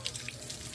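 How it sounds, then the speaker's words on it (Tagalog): Tap water runs quietly while a child is being bathed, a short, soft, steady splash from the faucet. "Hinaan lang kasi ng tubig."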